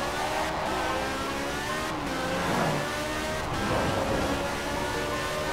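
A tiny 1962 Peel P50 buzzes along in a racing game's dirt race, its small engine droning steadily with slight rises in pitch under a constant rushing wash of road and wind noise.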